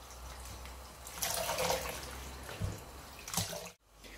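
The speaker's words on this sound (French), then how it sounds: "je vais repasser de l'eau pour enlever le côté vinaigreux et rincer encore une fois" Mallow leaves being rinsed again in a bowl of water to remove the vinegar taste, a steady close splashing and trickling wash with brief louder swishes and no talk.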